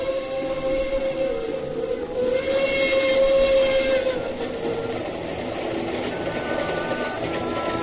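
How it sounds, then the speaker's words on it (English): A steam-era locomotive on the Cape to Cairo Railroad sounds a long, steady whistle at night, rising into a sustained mournful tone over a continuous rolling rumble of the moving train, with no talking. "The mournful whistle of the Cape to Cairo Railroad engine sounded in the night."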